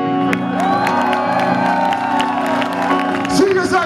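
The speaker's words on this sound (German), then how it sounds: "Einen Applaus für unsere temporäre Präsidentin." A crowd at the end of a concert in Thun cheers and whoops with some clapping, lively and close, while a voice talks over the noise.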